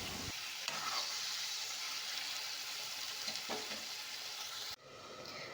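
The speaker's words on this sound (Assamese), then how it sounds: "পিঁয়াজখিনি অকণমান ৰঙচুৱাকৈ ভাজি লৈছোঁ আৰু মাংসখিনি বহাই দিছোঁ" Chicken frying in a pan over browned onions with turmeric and salt, a loud even hiss with a few stirring scrapes, cutting abruptly to quieter room tone near the end, no talking.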